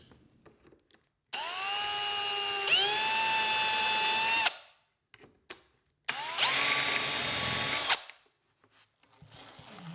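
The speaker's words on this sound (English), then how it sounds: "I'll use a self-centering drill bit to pre-drill holes for the screws" A power drill with a self-centering bit whirs in two bursts while pre-drilling screw pilot holes for Blum Tandem drawer runners, the first longer and rising in pitch midway, with brief quiet between them.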